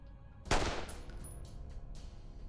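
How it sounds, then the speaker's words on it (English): A single revolver gunshot from the Reverse 1999 video game cracks out sharply, then leaves a ringing, echoing tail that slowly fades away. "The deafening gunshot echoes against the wall."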